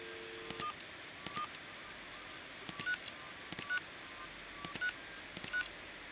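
Phone keypad note tones in the video game Gateway II: a series of short, separate tones about every half second to a second, fairly faint and clear, with no talk.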